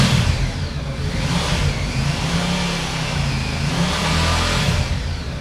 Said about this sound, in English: and then when you rev it